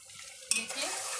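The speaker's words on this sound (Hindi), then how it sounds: "इसको हम भून लेंगे तेज आंच पर" A spoon or ladle scrapes and stirs mutton stew with curd and green chili frying over a high flame, one sharp clatter against the pot followed by a soft continuous sizzle, close and fairly quiet.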